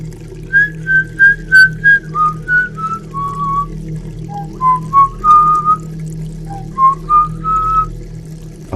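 One person whistles a slow, wavering melody alone, note after note in a steady phrase, clear and close against a faint low hum.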